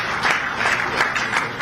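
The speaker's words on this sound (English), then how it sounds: "I think they deserve another round of applause for that" Audience applause at a stakeholders' meeting hosted by the NDDC in Port Harcourt, a steady burst of clapping with soft pulsing swells, filling the room for under two seconds with no voices over it.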